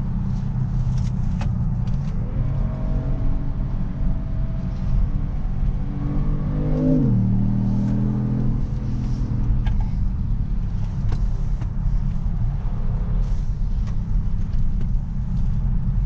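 A 2018 Kia Stinger driven hard gives a steady loud engine drone from the cabin, with a rev swell and gear change partway through, then continues at sustained load with no talking.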